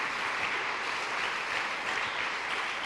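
Steady, full applause from a church congregation during a service, a thick continuous patter of many hands clapping at constant loudness for a few seconds without talk.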